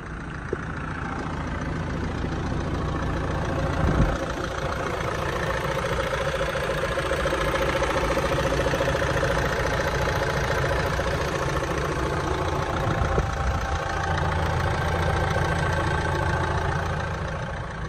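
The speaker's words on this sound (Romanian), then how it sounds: "Hai să ascultăm puțin și motorul." A Renault Talisman with a manual gearbox idles steadily at close range, its engine a quiet, even hum with a faint low rumble throughout and no voices.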